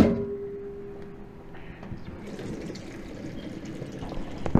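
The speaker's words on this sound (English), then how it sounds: "rinse your potatoes to cool them down for handling" Water running over boiled potatoes for rinsing, a continuous close splashing and gushing stream that builds slightly in intensity, with no talking.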